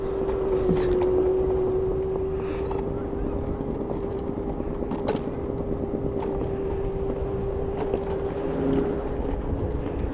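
A scooter ridden through city streets gives a steady, close motor drone with a constant pitch that barely changes across the stretch, over continuous road rumble.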